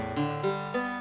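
Three plucked guitar-like notes played from a computer, each a clean struck tone with a steady ringing pitch, evenly spaced and alone, changing pitch from note to note.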